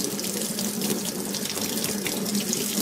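Tap water runs steadily into a sink as an empty GoGurt yogurt tube is rinsed out, a continuous close splashing hiss with no talking.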